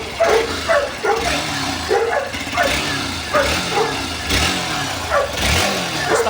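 A Hero XPulse 200 4v motorcycle with its stock exhaust is revved up close in repeated short bursts, roughly once a second, each blip rising and falling back loudly.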